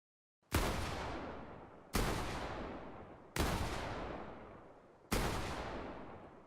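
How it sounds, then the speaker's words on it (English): Four evenly spaced gunshots from a weapon fired far off in Fortnite Battle Royale, each a sharp crack followed by a long rolling echo tail, with no voices. "despite the weapon being fired much farther away in this particular clip"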